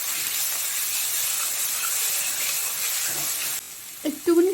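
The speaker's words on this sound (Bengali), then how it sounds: "আদা রসুনটাকে একটুখানি ভেজে নেব।" Ginger and garlic paste fries in oil in a pan for a koi fish curry, giving a steady, bright sizzling hiss that runs almost unbroken, then drops sharply and ends under a brief voice.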